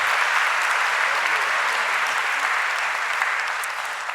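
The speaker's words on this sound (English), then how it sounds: "How about another round of applause for them?" Audience applause at a fashion talk event, a steady dense wash of clapping that holds at an even level for about four seconds before easing slightly at the end.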